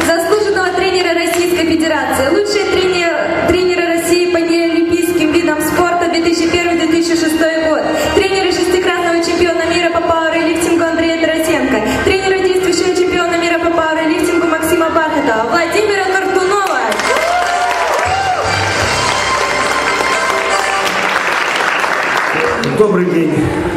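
At a district award ceremony, the audience claps for the nominees: broad, steady applause swells in the final stretch after a long passage of loud music, filling the hall.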